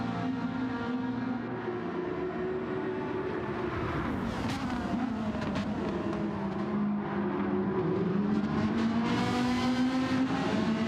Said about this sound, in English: Could use a little more engine noise.